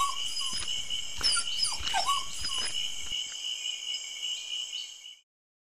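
A cartoon dog barks and yelps in short bursts at thieves, the sharp barks scattered over a steady insect-like hum before cutting to silence.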